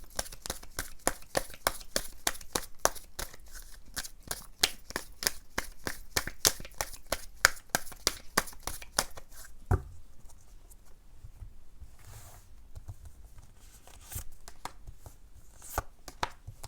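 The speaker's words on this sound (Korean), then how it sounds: "추가 카드 뽑아본 다음에 바로 주제로 넘어가도록 할게요" Tarot cards are shuffled in a quick, crisp run of rhythmic riffling taps that stops partway through, followed by a few sparse card handling sounds, close and quiet with no talk.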